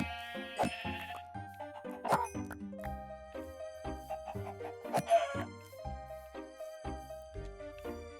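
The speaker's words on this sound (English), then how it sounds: "Come on, sheepy, sheepy, sheepy." Sheep bleating in a video game, short tonal bleats repeating at intervals over soft chiming game music, with no talk during the clip.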